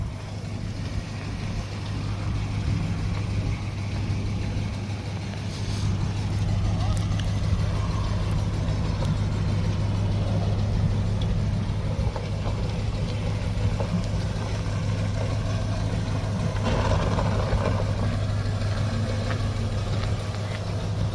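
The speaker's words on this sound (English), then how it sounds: "Yeah, she's pretty high idle. Yeah, you can hear the idle back here" A 1964 Dodge truck engine runs at a high idle with a steady low rumble throughout, close and fairly loud, with people talking over it.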